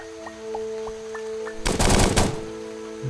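Gunfire in the video game Starbound: a dense, loud burst of rapid shots lasting about a second, preceded by a few soft electronic chirps over a steady game hum.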